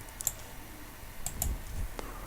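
Typing on a computer keyboard while entering a command in a root terminal, a handful of sparse, crisp key clicks in quick pairs over a soft background hum, close and fairly quiet.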